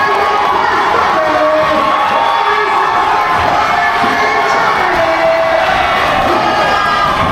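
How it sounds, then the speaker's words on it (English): A wrestling crowd at a Loud East Wrestling event roars and cheers wildly at a tag team title win, with loud, continuous shouting and whooping throughout, close and overwhelming. "the Prospects won the Tag Team Championships, and the crowd went wild"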